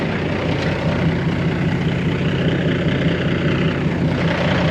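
A 2009 Peterbilt 386 truck with a Cummins engine idling, a loud, even, low diesel rumble and exhaust drone, close and continuous with no voices.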